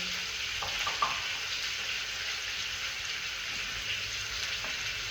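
Cumin and coriander seeds fry in hot oil in a pan, a continuous bright crackling sizzle close up, with a few faint stirring clicks near the start.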